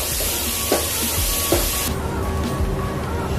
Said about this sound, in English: add the chopped onions and give it a good stir and let it cook for a couple of minutes